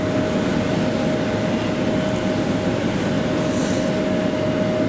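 A jet airliner landing on runway 23 left at Manchester Airport gives a steady, loud, broadband engine roar with a constant high whine, holding even throughout with no voices.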